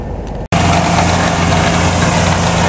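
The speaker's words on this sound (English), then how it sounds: "we are drilling a well system" A loud, steady well drilling rig engine drone with a constant low hum, briefly cut off at the start and then running on without change.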